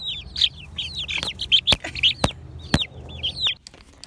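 Heritage chickens cluck and chirp in short repeated calls close by, with a few sharp clicks or taps in between, no talk.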